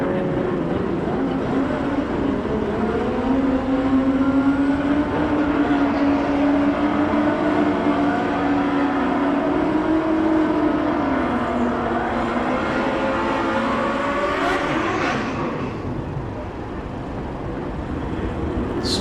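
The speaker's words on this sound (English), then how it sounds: "Strong burnout, both races." Drag racing motorcycles at the Mancup World Finals, one a 2004 green Hayabusa, doing burnouts, a sustained roaring engine drone with shifting pitch heard from a distance, easing slightly toward the end.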